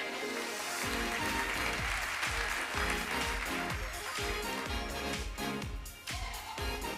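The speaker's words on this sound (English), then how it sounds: "Give them a warm applause." Audience applause at the CIO Day 2023 conference panel: sustained clapping from a crowd layered over loud, rhythmic, thumping music.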